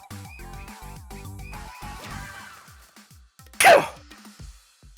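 A single loud, sharp sneeze bursts out near the end, after a stretch of quieter game sounds and chatter.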